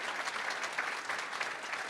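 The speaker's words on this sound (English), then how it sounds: "we should just applaud these student leaders, these athletes again" Sustained applause from an audience at a school program honoring student leaders and athletes, a dense even wash of clapping with no break.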